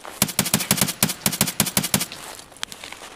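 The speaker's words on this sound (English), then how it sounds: "I'm just shooting at him through the bushes." Rapid gunfire in a first-person shooter video game rings out in a quick string of about a dozen evenly spaced sharp shots, followed by a lone shot after a short gap.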